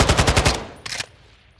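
Assault rifle fire in Call of Duty: Modern Warfare II, a rapid full-auto burst of about six loud close shots followed by two short separate bursts, with no talking.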